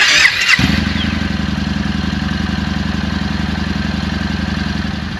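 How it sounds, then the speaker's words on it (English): A 2017 Yamaha SCR950 motorcycle engine starts with a brief starter whir, then catches and settles into a steady, loud, thumping idle close by, with no talk. "I'm now going to start up the 2017 SCR950"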